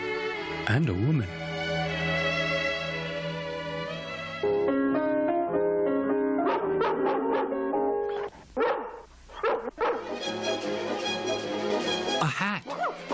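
A dog gives several high, sliding yips and whimpers, some close together and some spaced, over a continuous tonal background.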